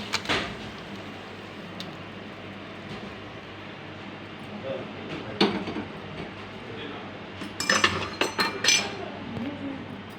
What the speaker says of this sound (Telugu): ఇదిగో ఇందులో వేసి పోపు అంతా ఇందులో వేసి కలుపుకోవాలి.